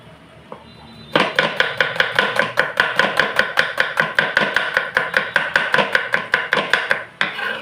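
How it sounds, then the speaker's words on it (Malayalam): A knife chops onion on a board in a fast, even run of about thirty crisp knocks, close and loud, starting after a second of near quiet and stopping abruptly near the end. "ഇപ്പോഴത്തേക്ക് നമുക്ക് ഇത്തിരി ഉള്ളി അരിയുക."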